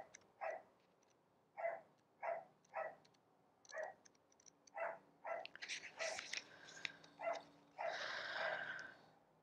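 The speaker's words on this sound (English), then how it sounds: "You guys hear my little dog in the background." A small dog barks repeatedly at a distance, sharp yaps spaced irregularly, building into quicker, busier barking near the end.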